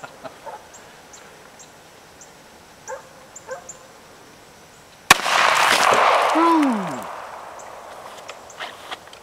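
A single loud .380 ACP pistol shot fired outdoors into gallon water jugs, sharp and close, followed by a washing splash-like decay, with faint voices and small noises before it.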